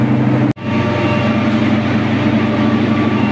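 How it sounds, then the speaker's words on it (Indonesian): The Logawa business-class train rolls into Kelaka station in the Lumajang area of Indonesia with a loud, close, continuous rumble and engine drone. A sudden brief dropout occurs early, then the heavy sound resumes steadily. "perjalanan kereta api Logawa yang saya naiki kali ini kini sudah tiba di stasiun Kelaka"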